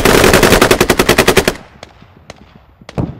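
Rapid automatic gunfire in the military shooter game Squad, a loud sustained burst of about a dozen close shots, then scattered fainter distant pops and one closer shot near the end.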